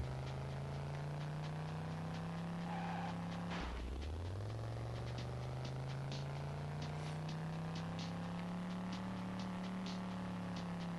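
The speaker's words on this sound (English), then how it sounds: "this car sounds good" A video game race car engine drones steadily, drops sharply as if shifting gear, then climbs back up into a sustained whine.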